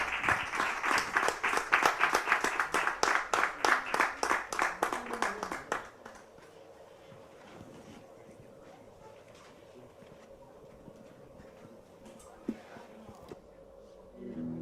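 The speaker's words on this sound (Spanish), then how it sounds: "Ese aplauso para Luis Pérez Erichol" Audience at an anniversary tribute event clapping in steady unison for about six seconds, then giving way to a quieter room with faint murmuring and low background noise.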